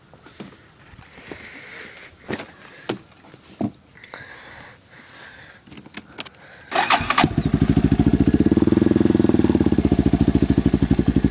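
After some clicks and fiddling, a Yamaha Warrior motorcycle engine cranks and fires up, settling into a loud, steady, throbbing idle close by.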